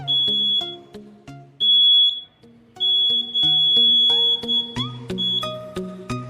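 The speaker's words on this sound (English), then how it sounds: "the buzzer will start producing some noise." A laser security alarm's buzzer sounds a shrill, steady electronic tone in several long bursts with short gaps, over a busy background of music-like tones.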